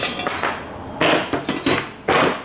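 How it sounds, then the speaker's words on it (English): A miniature wire spot welder tacks a wire frame, producing a handful of short, sharp crackling bursts spaced irregularly, close and distinct with no talking. "So I will release this now. See if it's square, and then we will weld the other side,"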